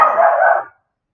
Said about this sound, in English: My grandma's dog has a grudge against the birds